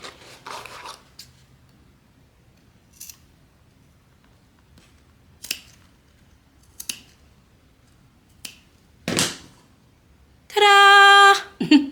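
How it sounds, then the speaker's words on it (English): Scissors snip off leftover fabric at a sewing project, giving several short, crisp cuts spaced apart in near silence, then a louder sustained rasp near the end. "You can just cut it off."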